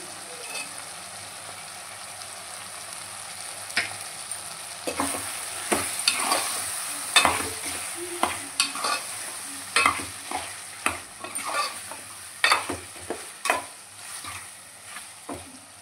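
Ginger paste fries and is stirred into chicken with softened tomato in a pan, a constant sizzle under a string of sharp spatula scrapes and taps that grow busier and more regular.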